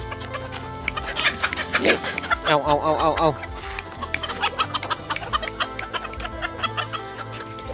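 A short-legged bantam breeding rooster, blind in one eye, and nearby hens cluck in a run of close, bubbling bursts, with a voice calling over them.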